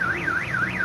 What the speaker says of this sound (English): Sorry for the car alarm.